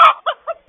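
Chickens clucking near a coop camera at morning, a louder cluck followed by two shorter softer clucks in quick succession, close and clear with no talk.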